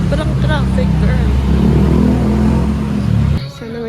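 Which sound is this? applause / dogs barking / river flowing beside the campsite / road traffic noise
road traffic noise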